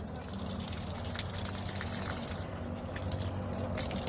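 Water gushing steadily onto grapevines and plants in a garden vineyard, a soft continuous rush with low background rumble.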